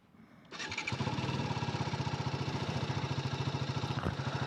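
A TVS Apache RR310 motorcycle in neutral cranks and fires up, then settles into a loud, close, steady pulsing idle.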